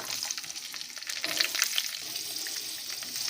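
Green chilies, ginger and garlic cloves fry in a little oil for an egg masala curry, making a soft, steady sizzle with scattered crisp pops, quiet and close and without any talking.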